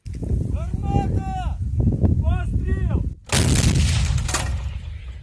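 A voice speaks over outdoor ambience during a military training exercise, then a single loud, booming artillery gun blast erupts and rumbles away.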